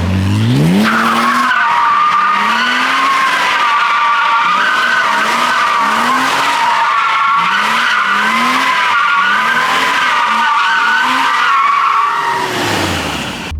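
Tires squeal continuously while an engine revs up and down in repeated surges, a car spinning in tight loops, loud and close.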